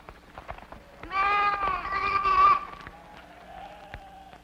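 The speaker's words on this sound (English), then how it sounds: "Take your 8 sheep." A single drawn-out bleat from a sheep, clear and fairly close, lasting about a second and a half against a quiet background.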